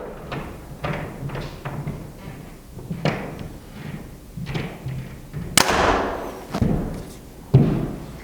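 A Mathews Phase 4 compound bow fires in repeated shots, each one a sharp, close thump followed by a brief fading rattle, with quieter handling knocks between the shots.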